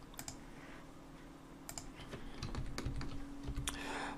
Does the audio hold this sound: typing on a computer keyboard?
yes